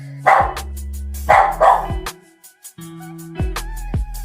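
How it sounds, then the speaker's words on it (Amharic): Dog barking sound effect added in an editing app: several sharp barks in short groups, loud and close, with brief gaps of near silence between them and no speech. "ሳውንድ ኢፌክት የውሻ ጩኸት ሳውንድ ኢፌክት ጨመርን"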